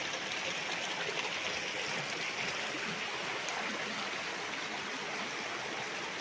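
Steady rushing of a clear flowing creek on a farm lot in Lucban, Quezon, a continuous broadband wash of water with no pauses, fairly close and even throughout.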